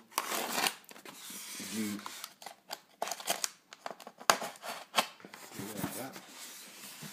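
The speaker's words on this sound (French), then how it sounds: "bien couper le scotch au niveau" Packing tape being cut to unbox a Predator Tracker model: a run of quick scratchy slicing and crinkling bursts with sharp clicks, close up, while someone talks briefly in French.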